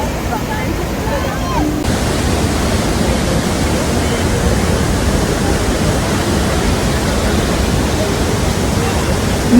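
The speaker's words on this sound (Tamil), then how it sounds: "அங்கே விழுற அருவியோட சத்தம் எல்லாமே உங்களுக்கு நல்லாவே கேட்கணும்" Niagara Falls waterfall roars as a loud, dense, continuous rush of falling water, close and steady throughout with no breaks.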